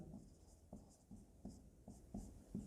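A pen writing given information on paper for a triangle geometry problem, with close, quiet strokes scratching in a steady rhythm of short bursts.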